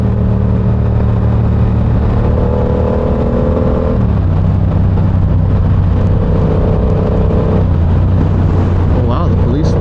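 A Yamaha R7 motorcycle exhaust heard while riding: a loud, continuous engine drone that drops in pitch around the fourth second as if shifting, then climbs again, with wind rush layered over it.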